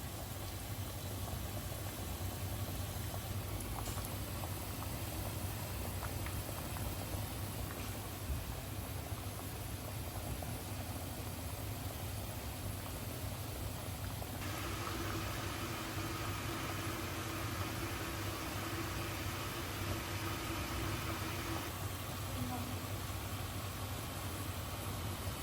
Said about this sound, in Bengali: আমার কাটলেট ভাজা চলছে।